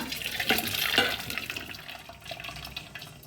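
Water splashes and pours steadily for a few seconds, a close, rushing liquid sound that tapers off toward the end.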